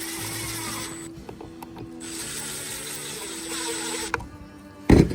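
A screw is driven into a wooden birdhouse panel with a ratcheting hand tool, giving steady mechanical clicking for several seconds, a brief pause, then a sharp louder knock near the end.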